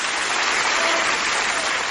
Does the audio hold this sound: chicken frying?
no